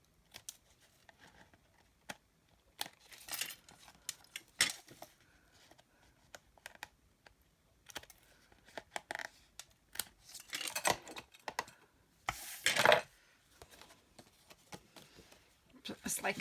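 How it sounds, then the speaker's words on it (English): Scissors trimming excess paper off a handmade embossed card, scattered soft snips and paper rustles in short bursts, quiet and close, with a person talking over them. "I'm just going to trim the excess off."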